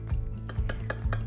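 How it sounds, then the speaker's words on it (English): A fork mixes eggs in a microwave dish, giving a few evenly spaced clinks and scrapes against the dish close to the listener. "So I'm poking the yolk to break it up, and then just give it a mix"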